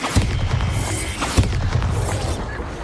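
A Bombarda spell explodes in Hogwarts Legacy, with booming blasts near the start and again around the middle over a dense, rumbling game-battle backdrop.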